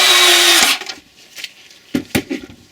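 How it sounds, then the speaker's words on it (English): A power driver runs a screw into a Subaru Forester headlight housing (2003–05) in a loud whir that lasts under a second, followed by a few faint clicks and knocks as the housing is handled. "Then you'll secure it with your 3 screws."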